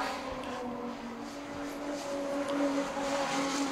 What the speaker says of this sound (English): Hear the sound of these drift cars.